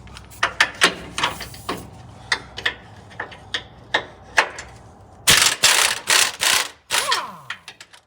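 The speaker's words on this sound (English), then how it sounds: "using a 21 millimeter socket with my impact and a 21 millimeter open end wrench to remove this first alignment bolt" An impact wrench with a 21 mm socket works on a lower control arm alignment bolt on a Nissan Titan: scattered metallic ticks and knocks, then a loud rattling burst of hammering close by, followed by more clanks.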